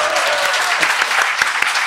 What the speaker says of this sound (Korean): 그럼 박수 한번 쳐주세요.